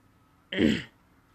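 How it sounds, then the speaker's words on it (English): A single short throat clearing, close and fairly quiet, in an otherwise still room. "I'm trying not to clear my throat too much"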